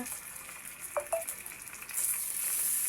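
Fish sliding into hot oil in a large frying pan, a steady sizzle that swells louder and brighter partway through as more pieces go in, close and continuous with a couple of brief clinks.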